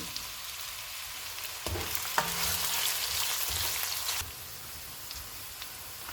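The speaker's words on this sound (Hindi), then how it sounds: "बड़े साइज़ का एक प्याज डालेंगे और इसको गोल्डन फ्राई करेंगे।" Steady sizzling of a large onion frying golden in a hot pan, with a brief louder burst of crackling in the middle, no voices.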